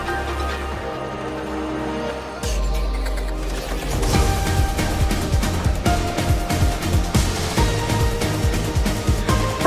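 Energetic battle music from the Pokemon Legends ZA video game, opening with sustained synth tones before a driving beat and dense layered melody kick in around four seconds, loud and continuous with no talk.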